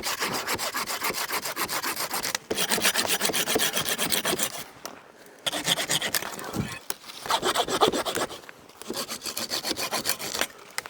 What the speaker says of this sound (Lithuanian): Dabar svarbiausia įsipjausit šakas.